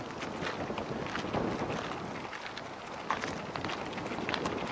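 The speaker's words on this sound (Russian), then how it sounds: "Ну, ветерок спасает." Wind blowing near a mountain river on a warm southwest breeze, a steady broadband rush with gusts and faint water hiss, continuous and fairly close, no voices.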